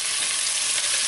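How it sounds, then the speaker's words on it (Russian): Cabbage sizzles steadily in a hot frying pan, a dense, close, continuous hiss of frying with no voices over it. "сейчас я вот эту вот капусточку буду уже опускать в раскаленную сковородку"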